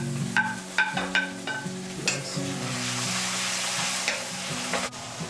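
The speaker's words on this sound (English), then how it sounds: "let's fry until it's golden brown. It's golden brown now. Let's drop the garlic and the ginger paste." Garlic and ginger paste frying in a hot pan for a Manipuri country chicken masala fry, a steady close sizzle with scraping stir strokes and light clinks of a utensil throughout, no talking.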